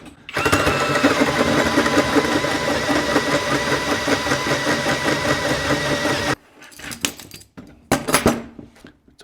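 A machine cuts a steering shaft universal joint, peeling a sixteenth of an inch per side to upsize it from 3/4 to 7/8 inch: a steady loud mechanical whir for several seconds, then stops with intermittent clanks and bursts.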